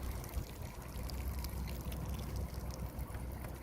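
Water pours and gurgles steadily through a cheap homemade aquarium overflow fed from a running tap, a continuous close splashing trickle with no talk.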